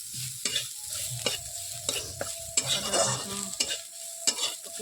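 Ginger and garlic fry in a pan with a steady sizzle while a utensil stirs and scrapes in repeated strokes, close and fairly loud, with no talking.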